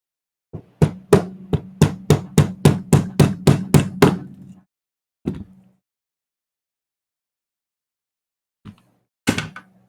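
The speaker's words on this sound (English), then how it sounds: "Sometimes a hammer is all you need." Hammer blows on a pinball machine's spinning pop bumper cap: a fast run of about fourteen sharp, evenly spaced strikes, then a lone knock and two more isolated hits after a pause, close and loud.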